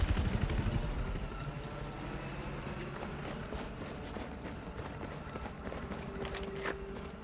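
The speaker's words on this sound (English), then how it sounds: "Watch out! Incoming helo!" Helicopter approaching in the Battlefield 4 game, a steady rotor chop and engine roar under dense combat ambience, loud and continuous throughout.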